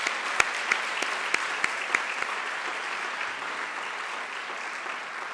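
A conference audience applauds with steady, dense clapping at moderate distance, a few sharper individual claps standing out before it gradually thins.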